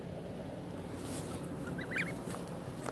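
Bar-headed goose goslings give a few faint, high little calls clustered near the middle and end, over a steady low noisy background with no talking.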